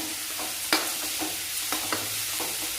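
Chopped onions sauté and sizzle in oil in a pan for egg paniyaram, with a steady bright frying hiss and a few scraping stirs of a spatula, close and loud, without speech.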